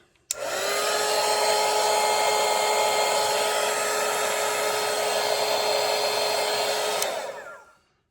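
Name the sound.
hair dryer drying a watercolour painting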